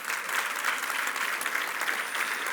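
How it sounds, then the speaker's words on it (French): A church congregation gives a steady, dense round of applause after a sermon, the clapping even and sustained from start to finish. "On peut donner une bonne main d'applaudissement"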